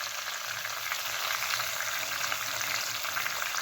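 Chopped onions with turmeric fry in a pan, giving a soft, steady sizzle with light stirring noises throughout, close by and fairly quiet, with no talking.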